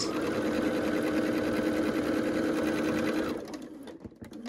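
Sewing machine running fast and steadily along a seam line on a quilt block, close and loud, then stopping abruptly near the end, followed by light handling noise.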